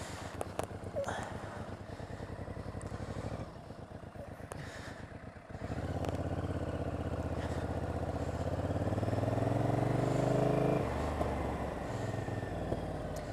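A 1000cc Honda VTR 1000 motorcycle engine runs close by, with a steady rough idle that rises into a louder, sustained rev partway through before easing back down.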